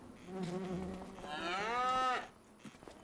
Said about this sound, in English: It's just a Hereford cow apparently.